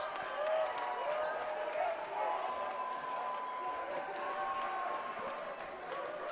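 A large crowd cheering at a high school ice hockey playoff championship game, a dense sustained roar of voices that stays loud and steady throughout.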